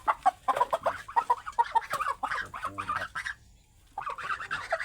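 Laying hens cluck and chatter nearby in a busy, choppy stream of short calls, pausing briefly before resuming.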